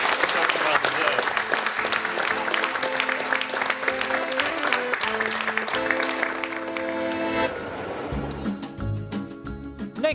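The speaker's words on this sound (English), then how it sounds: "Clucas Bay, a big round of applause" Studio audience applause for the Clucas Bay team on a model railway building challenge show, a steady wash of clapping that runs loud and continuous, with musical tones rising underneath and taking over near the end.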